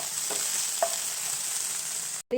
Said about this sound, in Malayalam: എണ്ണ നന്നായി ചൂടായതിനു ശേഷം നമുക്ക് ആദ്യം വെളുത്തുള്ളിയും ഇഞ്ചിയും ഇട്ട് നന്നായി വഴറ്റുക